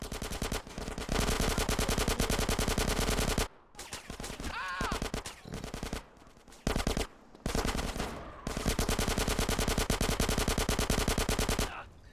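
Sustained SMG fire in GTA San Andreas, loud close bursts of rapid automatic shots split by a few short pauses, then long continuous strings of fire.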